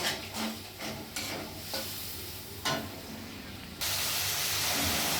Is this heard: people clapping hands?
no